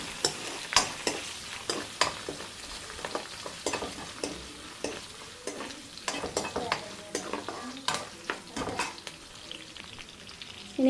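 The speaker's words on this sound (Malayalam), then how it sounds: "ഇനി വെളുത്തുള്ളി ഇട്ട് കൊടുക്കാം. വെളുത്തുള്ളി ഒന്ന് ചെറുതായിട്ടൊന്ന് മൂത്ത് വരണം." Garlic frying in oil for mango pickle, with a soft continuous sizzle broken by frequent sharp ladle clicks and scrapes against the pan at an irregular pace, close by and without any voices.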